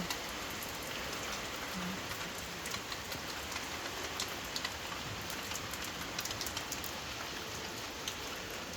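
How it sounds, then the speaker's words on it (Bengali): Heavy rain pours down in a dense, steady roar of drops on surfaces, close and constant throughout with no talking. "বৃষ্টি শুরু হয়ে গেছে"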